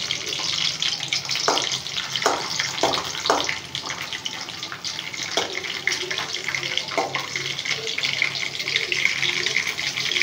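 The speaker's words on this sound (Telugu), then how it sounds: "పచ్చిమిర్చి మధ్యలో కట్ చేసుకొని వేయించుకోవాలి" Green chillies slit down the middle sizzle steadily in hot oil for a gongura chutney, a loud, continuous close-up hiss of frying with a few sharper crackles.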